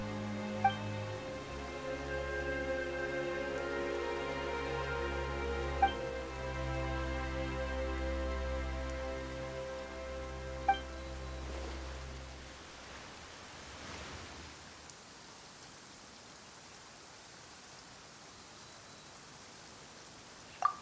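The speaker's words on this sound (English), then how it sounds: "Why is it raining all of a sudden?" Sudden rain sets in as a steady, close broadband hiss that swells once the background music fades, then continues alone as an even wash.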